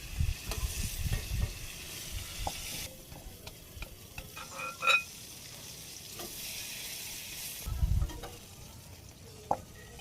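Fish heads broken into small pieces fry in hot oil in a Bangladeshi village kitchen, a steady close sizzle broken by scraping stirs of a spatula in the pan.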